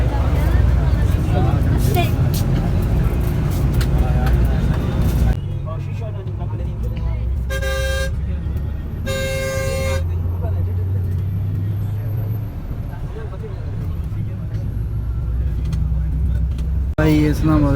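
Warraich Express bus traveling on the road from Islamabad toward Larkana, with a steady low engine and road drone throughout, brief tonal beeps midway, and people talking inside.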